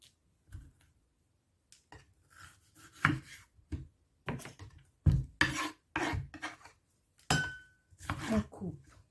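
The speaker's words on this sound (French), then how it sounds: "On va couper ensuite le poivron que j'ai lavé." A knife slicing a washed bell pepper on a board, a run of crisp irregular crunching and scraping cuts with short pauses between, close and fairly quiet, with occasional soft talk.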